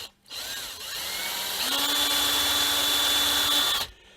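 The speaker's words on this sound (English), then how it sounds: "I'm going to drill one more." A power drill boring a hole in leaded glass work for a solar light terrarium whines steadily and loudly up close for nearly four seconds, with pitch stepping up partway through before cutting off.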